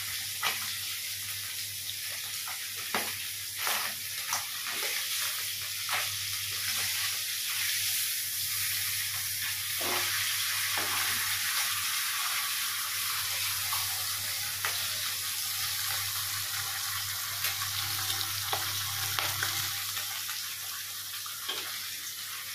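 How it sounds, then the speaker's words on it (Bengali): A fish head fries in oil with a steady, moderate sizzle and scattered pops and spatters, a continuous crackle under a low hum with no talking. "মাথা একটু ভালো করেই ভাজতে হবে।"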